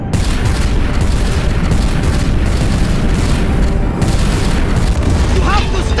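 Weapons fire and explosions boom through a cutscene from Marvel's Guardians of the Galaxy as Kree forces fire on a Celestial, a dense, continuous roar of blasts and rumble with voices mixed in.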